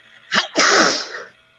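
A person sneezes loudly and close up: a quick intake of breath, then a forceful burst that trails off.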